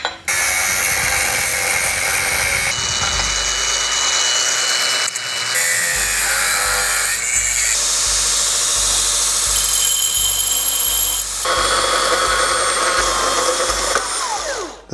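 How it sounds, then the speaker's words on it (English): Harbor Freight cordless bandsaw cutting parts for a camper's upper section, a steady whining, rasping cut that runs almost continuously and close, with short pauses and shifts in pitch as the blade works through the material. "The versatility of the Harbor Freight cordless bandsaw is unmatched"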